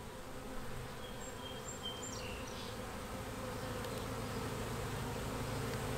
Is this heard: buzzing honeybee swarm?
yes